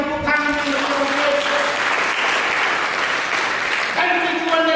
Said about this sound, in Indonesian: Mari kita berikan tepuk tangan yang berbahagia.